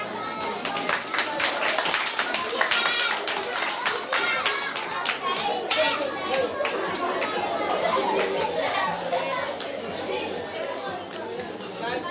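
Applause from a school audience at a reading day, 4th to 6th grade pupils, a dense patter of many hands clapping steadily throughout, mixed with children's chatter and voices nearby.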